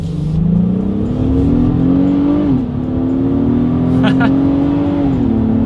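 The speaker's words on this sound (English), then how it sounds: "let's do a quick little acceleration test" A 2022 Acura MDX V6 SUV accelerates in sport mode with a smooth rising hum, dipping briefly at a gear shift before climbing again, steady and fairly loud throughout.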